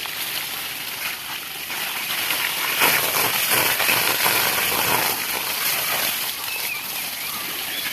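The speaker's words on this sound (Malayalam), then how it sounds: "ഇങ്ങനെ വെള്ളം അടിക്കുക." Water splashed and sprayed over a buffalo while it is washed, a steady, loud rushing hiss that runs continuously for the full eight seconds, swelling slightly in the middle.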